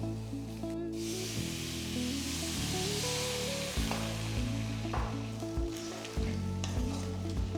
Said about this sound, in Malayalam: ഇതിനകത്തേക്ക് നമ്മൾ മിക്സ് ചെയ്ത് വെച്ചേക്കുന്ന സോസ് ചേർക്കാം.